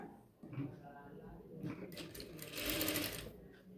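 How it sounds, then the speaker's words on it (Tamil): Sewing machine stitching a quarter-inch folded fabric edge while sewing a yoke nighty neckline, running in a few continuous bursts of close, steady whirring, with brief pauses between runs and a voice talking over parts of it. "மடித்து மடிப்புடைய ஓர சைடில் ஒரு ஸ்டிச்சிங் பண்ணிக்கலாம்"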